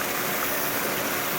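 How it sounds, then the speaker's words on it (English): Waterfall in Fairy Glen, a steady broadband rush of falling water that fills the short stretch at an even level with no voices. "this is the other waterfall"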